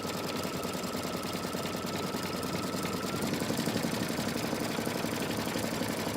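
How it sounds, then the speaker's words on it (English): An embroidery machine stitches out a fabric Christmas stocking held in its hoop, a steady rapid mechanical whirring and needle clatter running close and continuous throughout, with no talking. "So we're gonna let this finish stitching out"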